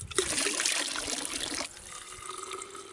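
A mountain drinking fountain on a trail near Malga Cate splashes a steady stream of running water, loud and close for a moment before settling into a quieter, continuous trickle.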